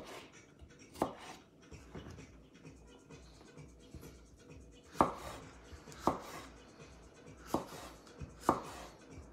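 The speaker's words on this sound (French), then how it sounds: "une fois qu'on aura fini de couper les poivrons" A knife chops bell peppers on a cutting board in sharp, irregular thuds, several distinct strikes spaced a second or so apart, close and fairly quiet.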